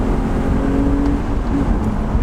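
An Alpina Roadster S engine drones steadily from inside the car while driving, a loud low hum with a faint sustained tone and no obvious revving changes.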